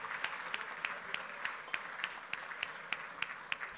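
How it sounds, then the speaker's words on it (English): Audience applause welcoming a speaker at an Australian Lebanese Chamber of Commerce event, steady clapping from a medium-sized crowd with sharp individual claps standing out at a brisk, even rhythm, moderately loud and without talk. "Please put your hands together"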